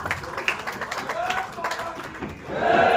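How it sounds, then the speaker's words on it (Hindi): An audience bursts into applause to welcome a speaker at a Modi Vichar Manch gathering, with scattered claps swelling into a loud, dense round of clapping at the end. "पूर्णकालीन बहन से जोरदार तालियों से इनका स्वागत।"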